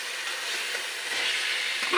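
Potatoes fry in a pan among other frying ingredients while chotpoti is being made. A loud, even sizzle runs throughout, rising slightly at the end, with no voices.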